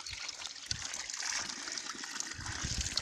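Water trickles steadily from a mountain drinking spring outdoors, a continuous splashing flow with faint low rumbles beneath it and no speech.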